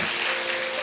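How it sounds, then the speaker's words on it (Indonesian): A church congregation applauds together in a short, dense, steady burst of clapping, close and fairly loud with no voices on top. "Berikan tepuk tangan kita untuk Tuhan kita."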